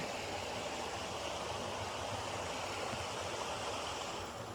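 Water pouring steadily over a small spillway out of a pond beside the Appalachian Trail, a continuous broadband rush close by and loud, with no speech.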